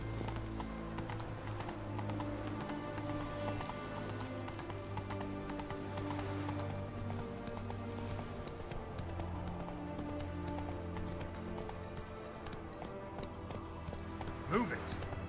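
Horse hooves gallop in The Witcher 3, a steady rhythmic clip-clop running throughout under a continuous bed of game music.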